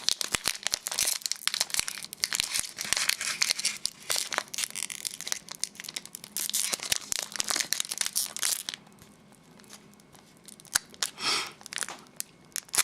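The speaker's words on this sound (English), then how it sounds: "The first pack I'm gonna open is this Platinum pack." A Pokemon Platinum card pack's foil wrapper is crinkled and torn open up close. Loud, dense crackling and ripping continues for about nine seconds, then quieter occasional rustles follow.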